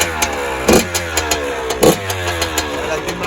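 A Yamaha YZF-R 150 motorcycle engine is cranked and revved, with sharp throttle blips rising over a mid-pitched idle close by, and voices talking around it.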